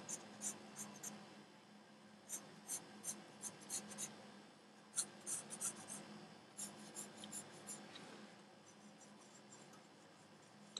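Pencil scratching on paper while sketching hair on a portrait, a quiet series of short, light strokes in uneven bursts, close and faint with a low background hum.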